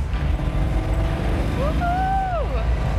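A 1970 Road Runner with a 392 Hemi engine gives a loud, steady, deep close-up rumble throughout, with a brief rising and falling tone partway through.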